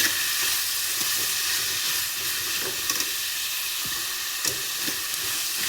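Fenugreek greens curry with turmeric and a pinch of asafoetida sizzles steadily in a pan, a loud continuous fry hiss with occasional soft scrapes and clicks of a spoon stirring through it.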